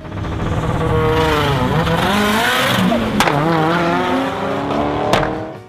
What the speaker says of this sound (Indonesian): mobil ini masih menggunakan mesin K3 1200 cc